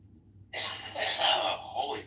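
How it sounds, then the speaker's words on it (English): A man gives a single rough, throaty cough that lasts over a second, close and fairly loud, rising abruptly out of a quiet room with a faint low hum. "these things make me cough"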